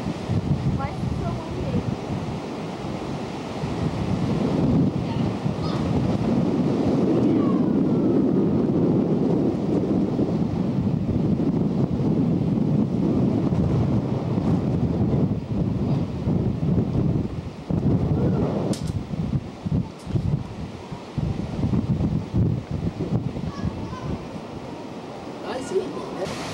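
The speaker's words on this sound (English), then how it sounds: "It's terribly windy, isn't it?" Strong wind buffets and roars across the microphone in gusts, with people talking faintly underneath.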